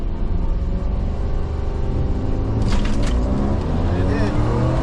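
A car with a 4.6 engine and ported Dorman intake launching at 3000 RPM, a loud close rumbling engine that builds steadily in pitch throughout, with a voice talking over it.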